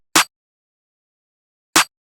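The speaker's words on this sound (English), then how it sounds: "I layered it with this snare right here" A drum kit clap layered with a snare hits twice, a second and a half apart. Each hit is short, sharp and bright, with dead silence around it.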